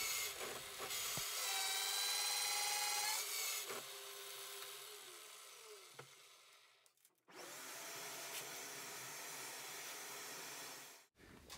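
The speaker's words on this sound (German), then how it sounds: "Seitlich wird noch ein Loch für das Kabel der LED-Lichterkette gebohrt." An electric drill bores a side hole into old reclaimed wood for the cable of an LED lamp. It whines steadily through one long run, pauses briefly, then drills again in a second shorter run.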